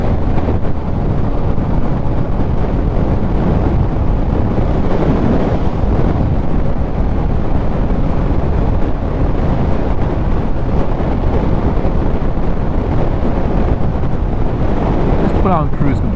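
Loud, constant wind roar and buffeting from riding a 2022 second-generation Yamaha XSR900 motorcycle, steady and unbroken throughout with no clear engine note above it.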